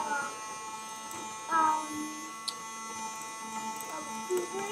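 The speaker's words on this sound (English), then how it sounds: "Okay, let's turn the vacuum on." A Henry Hoover vacuum cleaner runs with a steady electric motor hum, its pitch holding even while a person talks over it with brief knocks and bumps.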